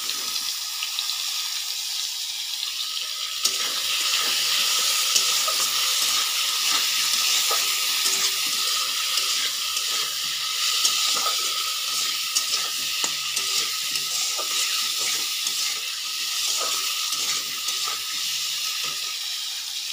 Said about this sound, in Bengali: এইভাবে এটাও 2 মিনিট ভেজে নেব